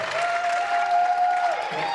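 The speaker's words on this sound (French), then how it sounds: "Applaudissez-la très fort." Audience applause at a Miss Ronde France beauty pageant, a short burst of steady clapping from the crowd with a voice speaking over it.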